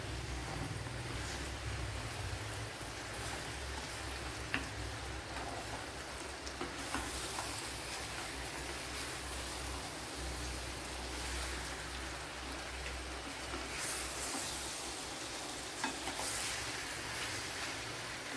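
Mango masala being stirred in a pan while making a ripe mango dish, giving a steady, continuous scraping and soft sizzling texture with no talk.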